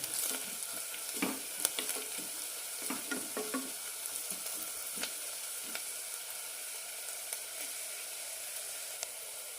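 Turmeric and chili powder sauté in a hot pan for a vegetable kurma, a soft steady sizzle broken by light scraping stirs, close and fairly quiet, with no talk.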